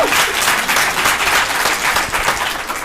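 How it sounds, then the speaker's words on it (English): Audience at a startup pitch night applauds loudly and steadily, dense clapping filling the whole stretch and easing slightly at the end. "I think we just have to give all my colleagues a round of applause"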